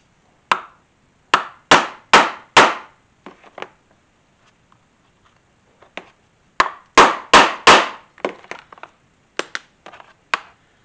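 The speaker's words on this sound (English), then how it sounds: "I'll use another mallet here to set my rivet" Mallet blows setting a rivet in leather for a utility holster: two clusters of sharp, loud strikes, four or five hard whacks each with lighter taps between, close up with no talking.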